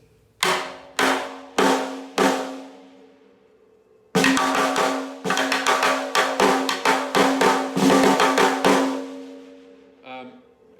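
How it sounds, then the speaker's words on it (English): Three spaced, ringing rim hits on a drum, then a quick run of bright pinging strikes in a lively rhythm, loud and close. "the next type of rim shot that we're going to talk about is a ping shot"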